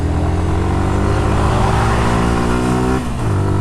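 Suzuki Gixxer 155 motorcycle accelerating hard to overtake, loud close engine note rising steadily in pitch, a brief dip around a gear change, then climbing again; no talk.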